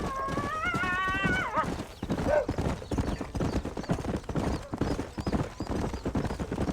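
Horse hooves clip-clop close and rhythmically while riding in the Red Dead Redemption game, opening with a loud whinny and continuing as a steady trot under ambient sound.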